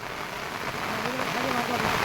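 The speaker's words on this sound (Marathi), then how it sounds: "पाऊस भरपूर आहे" Heavy monsoon rain falls on rice paddy fields during planting in Khed, Konkan, a dense and constant hiss of drops on water and mud, with faint voices beneath it.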